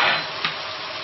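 Chopped chili peppers and bird's eye chilies hit a hot wok with garlic and ginger, giving a brief burst of close sizzling as they are stirred.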